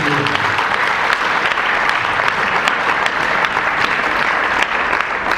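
A church congregation applauds with continuous, dense clapping throughout, loud and close, with voices faintly mixed in.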